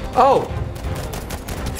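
Rifle fire from an M1 Garand in a shooter video game, a few sharp cracks over about two seconds, heard under a brief spoken exclamation.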